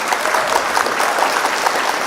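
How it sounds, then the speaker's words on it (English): Graduation day audience clapping for the parents in the back rows, a dense, loud, even patter of many hands filling the room without any voices. "a big round of applause to all the parents who are here"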